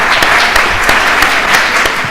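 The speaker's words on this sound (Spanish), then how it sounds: "Le damos un aplauso" Steady applause from an audience at a book presentation, a dense wash of clapping that holds for a couple of seconds with a few sharper claps standing out.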